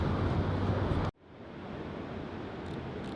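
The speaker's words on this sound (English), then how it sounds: "the shotgun mic picked up a lot of ocean noise" Ocean waves and wind roar loudly into a shotgun microphone, then drop abruptly to a softer, steady surf wash that continues to the end.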